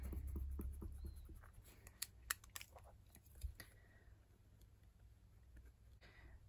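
A pen writes knitting pattern notes by hand on paper, making faint, close scratching and tapping strokes in short irregular bursts over a low background hum.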